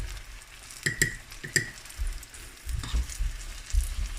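Salt cod fritters crackle as they fry in hot oil, with sharp close pops over a low bubbling sizzle that rises toward the end.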